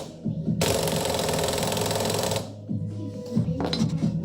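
An impact gun runs a wheel lug nut down on a new hub during an S13 five-lug conversion, with a loud, continuous rattling burst of about two seconds and then a short second burst amid light clatter.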